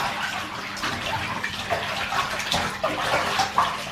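Water runs steadily from a tap into a tub to rinse laundry with a liquid detergent added, a continuous close gushing wash with no pauses.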